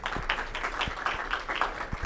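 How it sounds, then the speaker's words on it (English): A live audience gives a round of applause in a meeting hall, a steady wash of many hands clapping at moderate distance with a few sharper claps standing out, and no talk over it. "Let's give her a big round of applause."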